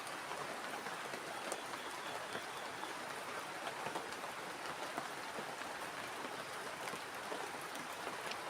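Heavy rain falling at a forest campsite, a dense steady hiss of drops pattering on surfaces with no voices.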